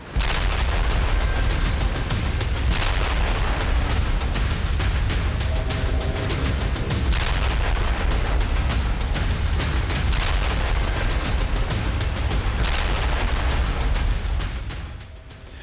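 Russian bombardment of Ukraine: a continuous, loud roar of explosions and artillery fire with repeated booms and blasts layered over heavy rumble, dense throughout and fading slightly at the very end.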